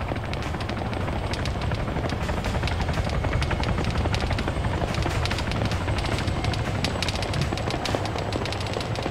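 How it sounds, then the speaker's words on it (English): Apache attack helicopter in a military video game, its dense rotor thrum running steadily throughout, with rapid machine-gun bursts and scattered gunfire layered over the continuous battle din. "The Apache and the chopper saved our asses."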